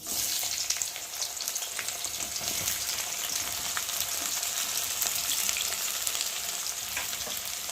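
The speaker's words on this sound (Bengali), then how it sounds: "তেলটা গরম হয়ে গেছে, আর এখন আমি পেঁয়াজগুলো দিয়ে ভালো করে ভেজে নেব।" Onions fry in hot oil for a picnic meal, giving a steady, dense crackling sizzle that carries on without a break, close and fairly loud, with no voices.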